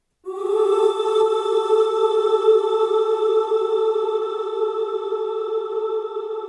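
A sustained tonal vocal sample with reverb for ambient pad sound design, starting abruptly and holding a steady harmonic drone with a clean, bright upper sheen that slowly thins for several seconds, alone without talk.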